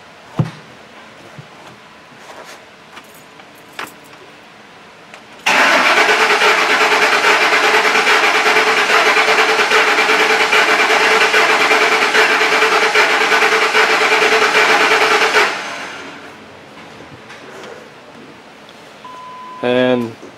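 A rough-running 2008 Ford F-250 5.4 3V engine with very low compression in cylinder 8 cranks over during a compression test with the throttle held down: one loud, steady, droning crank lasting about ten seconds, close by, with quiet before and after.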